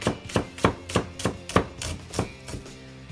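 Knife chopping scallion segments into small rings on a cutting board, about ten steady, evenly spaced thuds, close and clear, no voices.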